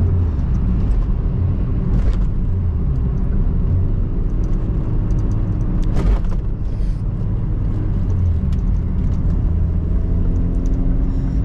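A Rover 200 BRM car driving, its engine giving a steady low rumble from inside with road noise underneath and a few brief rises along the way.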